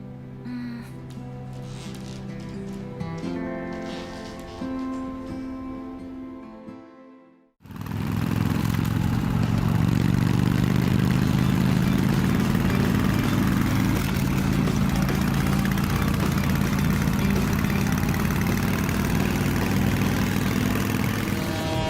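Music plays briefly, then cuts off and gives way to a motorbike engine running in a steady, loud drone that continues to the end.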